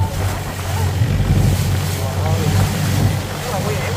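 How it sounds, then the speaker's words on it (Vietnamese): Rough open-sea waves surge and rumble around a boat, with heavy wind noise battering the microphone in a continuous loud roar and a voice faintly underneath. "Sống dữ lắm luôn á, ngoài biển mà."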